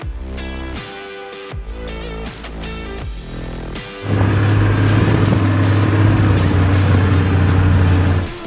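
A Toyota Land Cruiser heads into sand dunes in Portugal, its engine revving through stepped gear changes before settling into a loud, steady, close drone under strain, with no talking.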